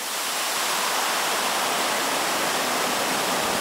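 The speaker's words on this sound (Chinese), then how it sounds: "到台北最美的捷运站大安森林公园站，看景观瀑布清凉一下" A landscape waterfall at Daan Forest Park MRT station in Taipei rushes steadily and loudly, a dense, even roar of falling water with no voices.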